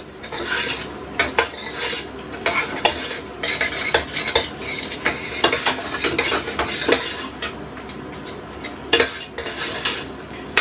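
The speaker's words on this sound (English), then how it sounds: "what I'm going to do now is give that a really good mix" A utensil mixing lasagna seasonings in a bowl, rapid clinking and scraping strokes that are loud, close and continuous, with no speech.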